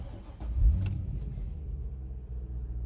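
A Chevrolet Corvette Z06 engine starts up, a low rumbling crank that catches and swells into a strong idle rumble, close by with no talking.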